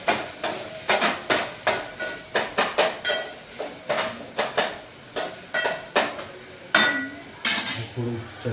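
A utensil stirs food in a metal cooking pot after asafoetida is added, giving about two dozen sharp scraping clanks in a steady rhythm, close and fairly loud with no talk.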